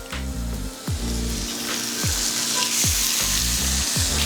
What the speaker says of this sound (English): put these in there and start searing them right now